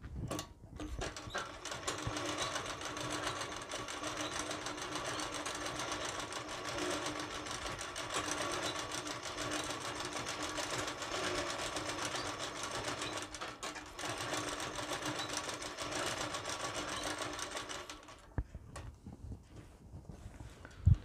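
A sewing machine darns a shirt, running continuously close up for about eighteen seconds with a fast, steady mechanical rattle of stitching, then stops, followed by a few faint handling sounds.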